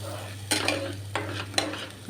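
Tomato curry being stirred in a pan on the stove, with three distinct scraping strokes of a spoon against the pan over a low, steady kitchen hum, close and moderately loud.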